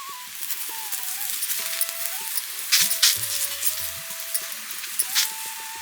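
A cauliflower paratha fries on a griddle with a soft, steady sizzle. A spoon spreading oil makes light scrapes and clinks over it, and a thin tonal whistle runs in the background.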